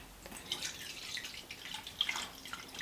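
Water trickling and dripping into a tarantula enclosure as it is watered, soft irregular drips and a gentle splashy hiss over steady low background noise, close and fairly quiet, no voices.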